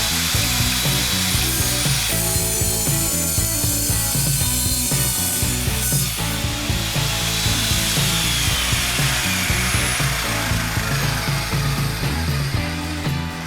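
An Evolution CMS210 mitre saw cuts through clamped wood with nails and screws in it, a loud continuous grinding roar that holds steady for the whole stretch with no talking.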